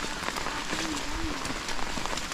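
Steady rain pattering on a surface around a hillside clearing of planted crops, a continuous close hiss of drops with faint voices underneath.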